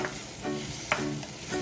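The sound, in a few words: stir-frying cherry tomatoes with onion and garlic in oil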